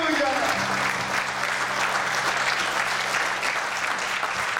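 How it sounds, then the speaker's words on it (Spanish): Loud, sustained applause fills a church as the congregation claps for the Lord, steady and dense throughout, with a held musical tone and voices faintly present beneath. "Dale un aplauso fuerte al Señor"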